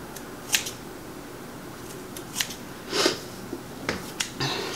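Scissors snip through hair braids being taken down, a few sharp separate clicks spaced over several seconds, close against a quiet background hiss.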